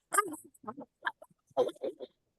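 During a storytelling session, a person's voice imitates a dog, giving several short, separate bark-like yelps close to the microphone.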